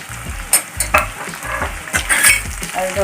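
Green chillies and onion fry in a pan for a home-style chicken curry, a close sizzle broken by irregular scraping knocks of a spoon stirring against the pan.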